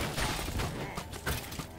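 Rapid volleys of fireworks arrows fired with multi-shot in the video game Minecraft Dungeons, a dense burst of crackling pops and bangs in quick succession across a short stretch.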